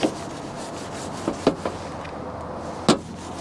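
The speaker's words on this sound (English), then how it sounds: "And I'm cleaning it. Get rid of any grease," A cloth rubs and wipes across the surface of a 2019 Ford Transit van during cleaning to remove grease, giving a few short, soft scrubbing strokes close to the microphone with quiet pauses between them.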